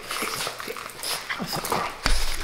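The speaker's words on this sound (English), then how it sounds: "We got two new Frenchies recently." A French bulldog puppy whimpers and yips in short, high, intermittent cries, close by in a home, with some shuffling movement and a thump near the end.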